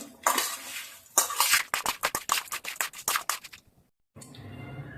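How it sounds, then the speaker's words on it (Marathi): Rapid, close metallic scraping and clinking of a spoon in a bowl while a coarse ground mix of ajwain, cumin and pepper is stirred into a lemon and green chili pickle, with a short silence before softer rustling. "ओवा जिरे आणि मिरीचं जाडसर कुटलेलं वाटण घालणार आहे तर व्यवस्थित मिक्स करून घ्यायचं आहे"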